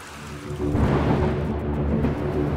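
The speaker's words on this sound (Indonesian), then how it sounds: "udah mulai hujan, Bang. Siap-siap aja semuanya. Pegangan, ombaknya akan semakin besar." Steady rain with low rumbling thunder and heavy surging waves at sea in an animated horror cartoon, a loud continuous wash building up about half a second in and holding throughout, with no talk.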